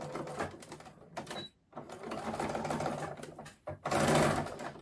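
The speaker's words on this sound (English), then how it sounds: "So I'm going to sew in reverse to start off with." A sewing machine reverse-stitches bias binding onto fabric, whirring in close bursts with brief pauses between them, loudest in a final burst.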